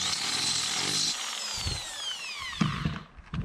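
A power drill boring holes for an upper kitchen cabinet in a high-roof Transporter van being converted to a campervan whines up for about a second, then winds down in falling pitch, with scraping and knocks after.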